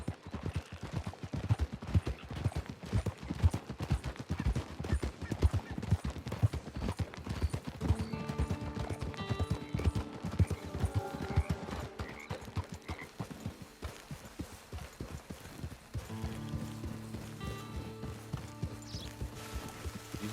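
Horse hooves clip-clop at a steady walking rhythm in the video game Red Dead Redemption 2, close and clear, fading as light game music and ambient tones come in later.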